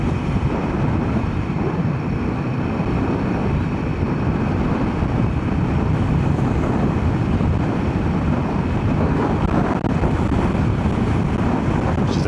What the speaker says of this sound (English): It's actually a bit windy out here today.